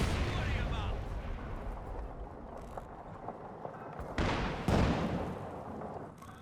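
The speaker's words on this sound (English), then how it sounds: "Just needs one more shot to connect. I think he'll be firing into the fog." Gunfire from a tank or gun shot in Company of Heroes 2 during a 1v1 match, a rumbling, booming battlefield din with a couple of sharper blasts near the end, under ongoing play sound.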